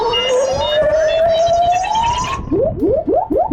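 An LRAD bird deterrent unit at a pond sounds an electronic siren, a loud rising wail that slides steadily upward, then switches to a rapid series of short whooping chirps, with faint voices underneath.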